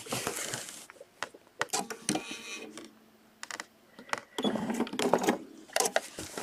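A quilting machine runs in short, irregular bursts to put in a few locking stitches, with faint clicks and mechanical taps between the brief runs and quiet gaps.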